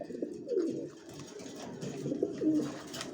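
Racing pigeons in a loft giving soft, throaty cooing calls in several rounded phrases, close and fairly quiet against a low background.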